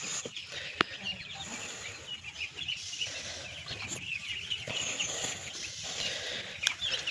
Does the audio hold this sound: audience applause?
no